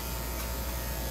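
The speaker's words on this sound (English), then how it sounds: "it's the noise of the clippers" Electric dog grooming clippers buzz steadily and close up throughout, a constant motor hum with no talk, while a reluctant dog is being groomed.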